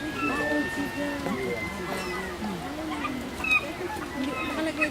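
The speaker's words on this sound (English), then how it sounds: "Those are all seagulls." Seagulls call out in Ketchikan, Alaska, a chorus of overlapping cries and yelps from many birds at mid distance, continuous and layered over outdoor ambience.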